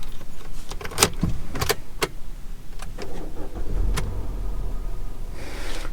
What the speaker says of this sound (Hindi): एक बार मैं गाड़ी को दोबारा से स्टार्ट करता हूँ और आपको दिखाता हूँ कि कितनी जो है वो इंजन नॉइस आती है स्टार्टिंग के टाइम पे